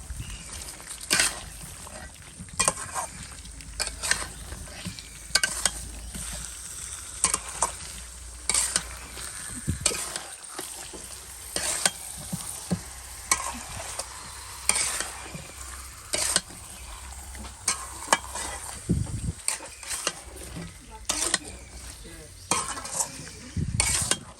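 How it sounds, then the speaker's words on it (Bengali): Food being stirred in a sizzling frying pan in a small home kitchen, a spoon scraping and clattering against the pan in repeated strokes over a constant close fry hiss. "এটাকে ভালো করে নাড়াচাড়া দিয়ে দিই"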